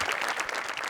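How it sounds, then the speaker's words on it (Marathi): Studio audience at a Marathi comedy show claps, giving a brief burst of dense, even applause at moderate level. "गणेश सरांसाठी एकदा जोरदार टाळ्या."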